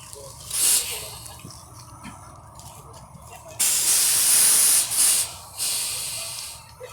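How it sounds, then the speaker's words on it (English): Air brakes on a King County Metro battery-electric articulated bus hiss in several loud bursts, with short quiet gaps between them and a longer sustained hiss toward the end. "Those air brakes are about the most noise it makes."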